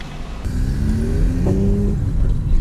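Several cars pass close by on a street, one of them a Peugeot, their engines revving and whirring in a steady stream of traffic noise with no talk.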